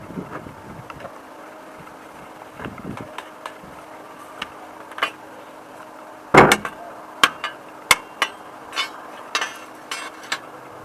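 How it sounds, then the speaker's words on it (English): A series of sharp metallic hammer strikes rings out as a homemade boat anchor is bent into shape, irregular at first and then steadier, over wind and low background rumble. "I'm going to hit it with a hammer"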